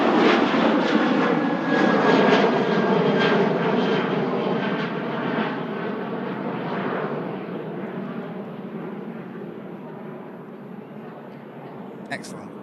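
A Ryanair jet airliner departs Manchester Airport, its engines a broad, loud roar that slowly fades into the distance.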